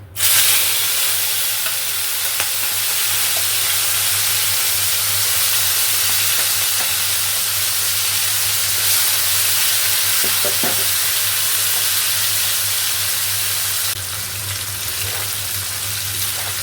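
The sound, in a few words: dried fish (shutki) frying in hot oil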